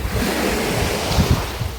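Sea surf washes against a Greek island shore, a loud, continuous rushing of waves mixed with wind buffeting the microphone, with swells rising near the end and no talking.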